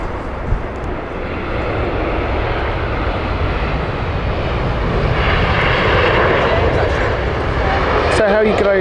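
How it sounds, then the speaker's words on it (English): An older-generation British Airways Airbus A320 jet roars steadily and loudly at Heathrow Airport, its broadband engine noise holding strong throughout, with a faint voice briefly audible beneath. "Rome flight Airbus A320 from British Airways next"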